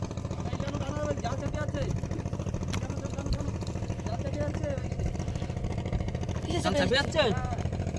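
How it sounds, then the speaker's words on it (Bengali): A motorboat engine drones steadily on the Matla river in the Sundarbans, a continuous low hum beneath someone speaking close by during fishing, with the engine noise rising slightly near the end. "একটা বোট যাচ্ছে এখান দিয়ে"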